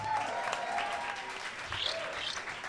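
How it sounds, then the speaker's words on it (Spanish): An audience at a live freestyle show claps for a band, a modest smattering of applause under a faint hum of voices and a few tonal music-like sounds. "Por favor, un fuerte aplauso para la banda alcohólica."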